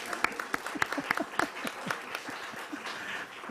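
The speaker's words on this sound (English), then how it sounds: "Let's give Sarah applause." Audience applause at a university lecture on Greek architecture, a moderate, steady patter of many hands clapping with crisp individual claps, fairly distant and without talk.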